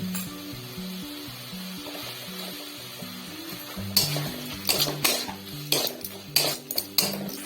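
Tomatoes tipped into frying masala for a Malabar spinach and moong curry, with a soft sizzle under a repeating melody, then sharp metal spoon clinks and scrapes against the pan in quick succession.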